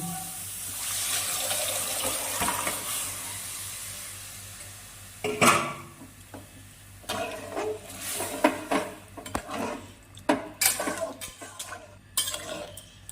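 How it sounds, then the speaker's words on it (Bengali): Boiled peas and their water are poured into a pan of fried spices, a brief splashing pour followed by a loud sizzle settling into bubbling, then metal spoon scrapes and clinks as it is stirred. "এখন জল সহকারে সেদ্ধ করা মটরটা দিয়ে দিব"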